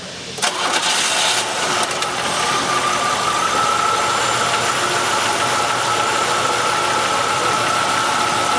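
A car engine with a stuck fuel injector misfiring on cylinder 5 cranks and catches, then settles into a steady, rough idle, close and loud throughout.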